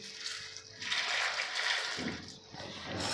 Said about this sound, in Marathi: त्या भांड्यामध्ये हा मुरमुरा आपल्याला घालून घ्यायचा आहे आणि त्यानंतर भरपूर सारं पाणी घालून आपल्याला फक्त स्वच्छ धुवून घ्यायचं आहे